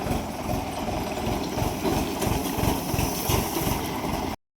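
A tractor engine chugs steadily with a rapid low rhythmic throb, loud and close, continuing without pause until it cuts off.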